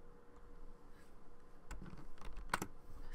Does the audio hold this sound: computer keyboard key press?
yes